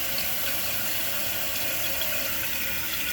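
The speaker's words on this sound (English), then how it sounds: "the water is pouring through that black jet down under the hole." Water from a newly installed toilet fill valve pours steadily through the black jet into the tank, a continuous close hiss and splash with no talking.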